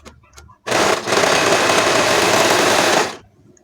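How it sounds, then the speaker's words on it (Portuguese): A sewing machine stitches the gusset of a high-waisted panty in one loud, steady run of rapid whirring for about two and a half seconds, stopping abruptly, with quiet room sound before and after. "E aí, a gente vai costurar."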